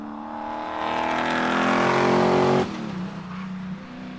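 A loud race car engine at a motorsport event revs hard and climbs in pitch, then drops sharply as the driver lifts off, settling into a lower rumble.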